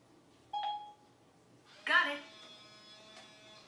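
A smart lock on a front door chimes as it unlocks, a single faint electronic beep in the background, followed by a louder burst of broadband sound fading into quiet room tone.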